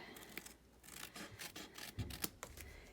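Card paper glued onto a greeting card being trimmed with scissors, soft quiet snips and rubbing sounds close up, with no talking.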